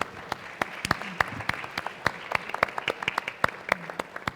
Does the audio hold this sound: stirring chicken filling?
no